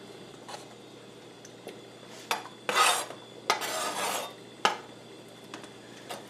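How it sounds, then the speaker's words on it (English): A knife slices sausage at an angle for cabbage soup, producing a few short scraping cuts against a board with quiet kitchen clatter between them, moderately close with no talking. "So I'm going to slice this up and throw these pieces in there."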